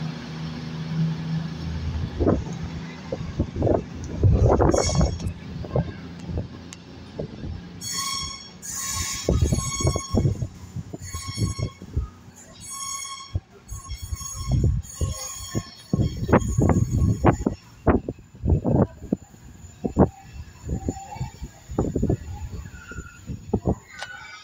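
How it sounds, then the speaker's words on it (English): A passenger train departs Weston-super-Mare station toward Paignton with rumbling movement, clattering wheel thumps and brief squeals, loud and close, over a steady background hum. "And off this service leaves to Paignton."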